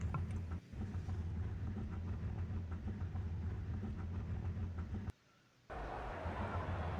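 A 1,100-horsepower car in the racing game Burnout Masters roars in a steady, loud engine drone, cutting out briefly near the end before surging back in.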